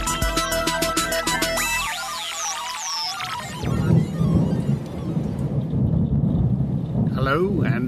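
A thunderstorm over Sydney, Australia, with a rumble of thunder and steady heavy rain that swells after a musical intro fades out, while a voice talks over the downpour.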